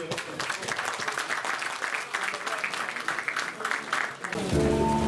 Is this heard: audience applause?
yes